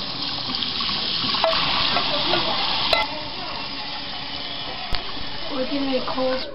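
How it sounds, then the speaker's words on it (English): Cans being washed under a running tap, a continuous splash of water in a sink with light clinks of metal, close and steady. "Now I'm gonna wash the cans."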